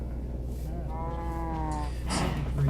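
Cows mooing, one long drawn-out low moo rising and falling at moderate distance, followed by a short rougher call.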